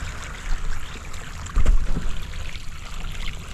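Water flowing in a broad, continuous rushing wash, close by, with a louder burst of splashing and churning about midway, heard without speech.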